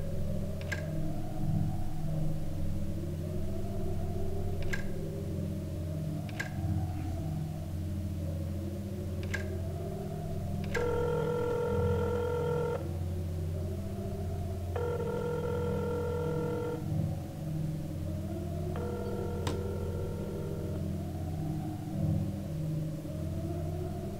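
A telephone rings repeatedly in Silent Hill's Alchemilla hospital, three bursts of bright electronic ringing over a constant low droning rumble of game ambience, with sharp ticking clicks earlier on.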